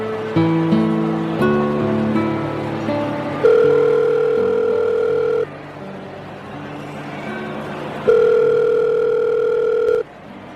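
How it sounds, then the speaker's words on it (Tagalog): Mobile phone call tone of sustained electronic beeps, with an opening string of short stepped tones followed by long steady tones separated by brief gaps, loud and close over faint background noise. "Inilabas ko ang cellphone ko saka ko tinawagan si Jude para hulihin sila ng harap-harapan"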